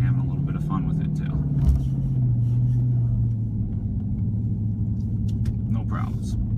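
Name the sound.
Dodge Charger driving through deep snow up a hill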